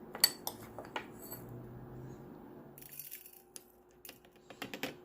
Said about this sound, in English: I'm going to take my spoon and I'm going to fill another 1/3 with some rice.